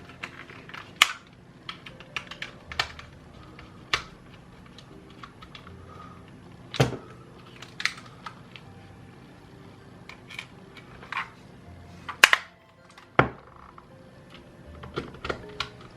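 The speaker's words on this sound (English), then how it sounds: "So we're just putting the final screws back on the controller again here now." Small screws go back into a PS3 controller with a small screwdriver: scattered sharp plastic clicks and ticks at irregular intervals, close up, over quiet room tone with no talking.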